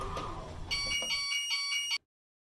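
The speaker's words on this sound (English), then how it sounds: "Kone alarm on a crap elevator." A Kone elevator alarm inside a parking garage elevator sounds as a loud, steady electronic ringing tone for about a second before cutting off abruptly, after some low background noise.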